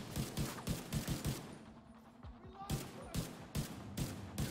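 Gunfire in the video game Division 2: repeated sharp shots in rapid bursts, loud and close, pausing briefly before resuming.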